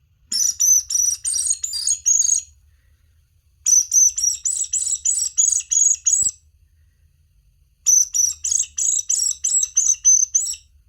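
A squirrel whistle game call blown to imitate a bird distress call: three loud bursts of rapid, high, squeaky chirps in quick series, separated by short pauses, with no talking.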